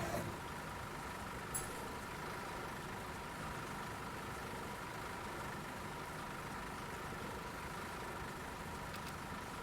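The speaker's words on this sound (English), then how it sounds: "it gets pretty loud with the bus running" A bus engine in a bus driving simulator game runs as a steady low rumble with a constant drone, even and moderately loud throughout, with a faint click near the start and no speech.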